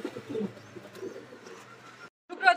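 Rasgolla pigeons cooing in soft, low repeated pulses for about two seconds, then a brief pause before a louder, brighter burst of calls at the end; no talking.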